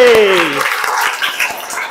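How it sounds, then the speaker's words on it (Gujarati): Applause in a school setting for a girl, broad crowd clapping that follows a brief spoken voice at the start and continues steadily through the rest. "તાળી પાડો છોકરી માટે"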